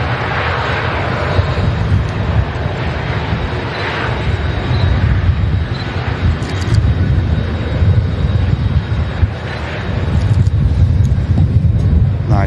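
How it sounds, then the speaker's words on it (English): Virgin Atlantic Airbus A330 airliner taxiing past at Manchester Airport after touching down: a loud, continuous roar of engines and rumble that swells slightly toward the end, with faint wind noise and no speech. "Virgin Atlantic 330 touches down, and we've got the giant of the skies. It's a taxi past us here at Manchester."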